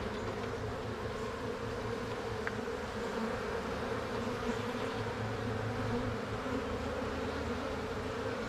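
Steady, dense droning hum of many honey bees buzzing together in a hive, continuous and close, with no pauses over the whole stretch.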